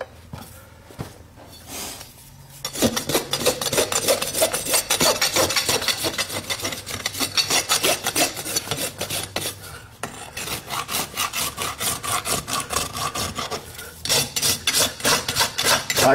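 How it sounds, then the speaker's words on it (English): A farrier's rasp files a horse's front hoof in firm, rapid back-and-forth strokes, loud and close, running in steady bursts with brief pauses between sets. "Light rasping."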